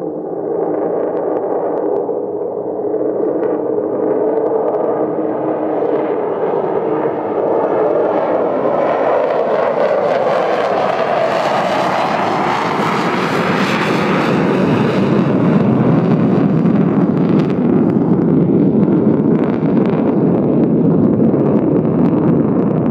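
A jet airliner takes off at Perm airport: a loud, sustained engine roar builds over about twenty seconds, rising in pitch and swelling with wind rumble as the aircraft accelerates down the runway, with no voices.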